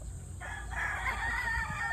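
A gamecock of the Sweater Gilmore bloodline crows once, a clear, drawn-out cock-a-doodle-doo at moderate distance over faint background noise, with no talking.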